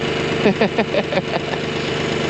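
A tractor engine idles steadily near a horse pasture, a continuous mid-pitched rumble with faint knocking pulses throughout, alone without talk.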